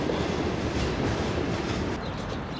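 A Trans-Siberian train at a station in a large Siberian city, with a continuous loud rumble and rhythmic rail clatter filling the scene, no voices present.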